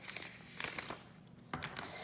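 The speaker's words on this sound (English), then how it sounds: "So I'm just going to shuffle the cards." Tarot cards are shuffled in a few quick riffling bursts, close and fairly quiet, separated by brief pauses and a final short flutter.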